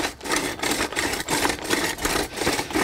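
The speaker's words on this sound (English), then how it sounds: "You can hear us going through rock, dust, a lot of things." A post hole digger reams a 6-inch hole out to 12 inches through rock and dust, giving a loud, rhythmic grinding scrape that pulses about three times a second.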